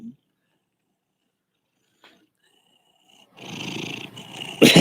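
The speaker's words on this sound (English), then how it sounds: "Yeah, he's purring." Rusty the cat purrs softly and close up, a low, rumbling, steady purr that starts after a few seconds of near silence and lasts about a second and a half.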